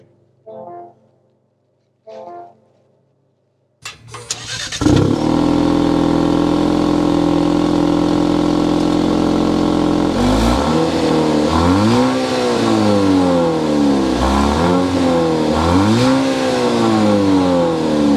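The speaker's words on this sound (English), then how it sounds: "We need to go inside, start it up, so we can hear if that sounds like a Maserati." A Maserati Grecale GT's 2.0-liter four-cylinder turbo engine cranks and catches after a few quiet clicks, settles into a loud steady idle, then is revved in several rising and falling bursts.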